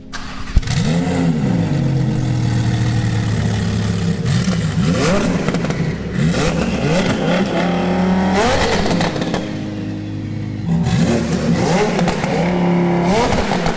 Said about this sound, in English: He's about to start it up for the vlog